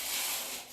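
An exercise glider slides across the floor in one short, close, rasping sweep that sounds like sandpaper.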